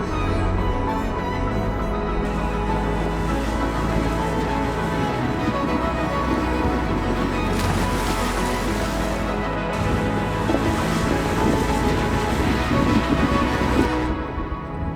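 Steady rain falls in rural Portugal, a dense continuous hiss with a low rumble underneath, constant and fairly loud throughout with no voices.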